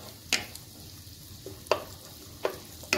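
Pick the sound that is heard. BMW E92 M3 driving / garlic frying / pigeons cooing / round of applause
garlic frying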